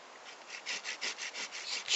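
A pruning saw cuts through a short dogwood stick in a steady run of rasping back-and-forth strokes, close and fairly quiet, finishing with a louder final pass.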